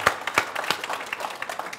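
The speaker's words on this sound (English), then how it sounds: "big round of applause for that" Audience applauding drift world champion Vaughn Gittin Jr. at the MotoMan Studio in the Petersen Automotive Museum; a dense wash of clapping with a few sharp nearby claps, fairly loud and steady.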